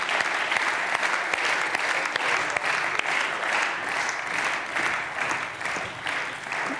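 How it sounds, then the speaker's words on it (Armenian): An audience applauds loudly and steadily, welcoming a guest onto the stage at a live comedy show, with dense continuous clapping throughout. "Խնդրեմ, ծափարություններով դիմավորենք։"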